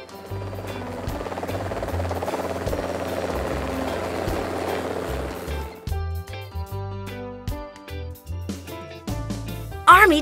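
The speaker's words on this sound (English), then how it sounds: "Police helicopters." A police helicopter's steady rotor thrum and engine whine fill the clip, loud and close, with the pulsing beat growing choppier toward the end.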